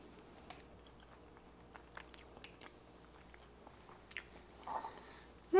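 Soft, close chewing of a bite of a homemade healthy dessert ball, with scattered small crunchy and wet mouth clicks over several seconds and a brief louder sound at the very end; no talking.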